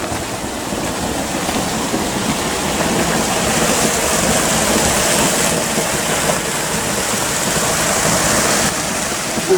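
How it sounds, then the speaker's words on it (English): A powerful waterfall pours at Clingfillam Bridge as a loud, continuous broadband rush of water, steady and close with no voices. "there's a mighty waterfall flowing here"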